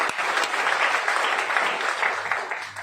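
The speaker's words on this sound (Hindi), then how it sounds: "उनके लिए एक बार जोरदार तालियां हो जाए" A seminar audience breaks into loud, sustained applause, a dense steady wash of many hands clapping at an earning-recognition event, continuing without a break for the full stretch.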